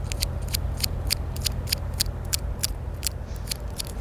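Scissors or shears snip through cut-and-come-again flower stems during a farm harvest, a quick series of crisp, close cutting clicks over a steady low background rumble.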